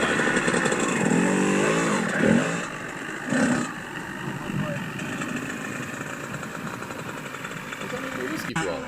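A motorcycle engine revs hard in a whiskey throttle moment, with a loud sustained roar that surges and dips briefly, mixed with a voice speaking over it.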